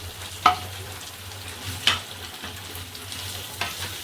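Fried squash and potato pieces go into hot spiced oil in a pan, giving a soft steady sizzle broken by a few sharp clinks and scrapes of a spatula, close by with no voices.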